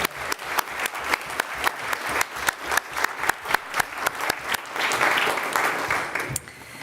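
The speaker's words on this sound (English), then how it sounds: "Please give yourself a round of applause." An audience in an assembly hall claps for volunteers, with sharp rhythmic claps ringing out in rapid succession before swelling into a denser burst of applause that fades near the end.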